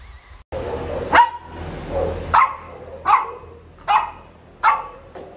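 Dogs, including playful French Bulldogs, bark in a pet daycare playroom: five or so loud, sharp barks at roughly regular intervals over a low, continuous room rumble.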